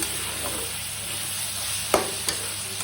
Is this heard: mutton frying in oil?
yes